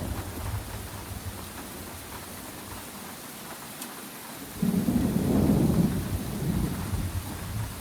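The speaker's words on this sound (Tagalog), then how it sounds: "Umuulan." Rain and thunder in a shawarma kiosk horror video game: steady rainfall hiss throughout, then a loud low thunder rumble swells midway and lingers.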